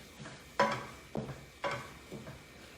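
A spoon scrapes and stirs zucchini risotto in a pan, three or four soft separate strokes over a faint simmer, quiet and close.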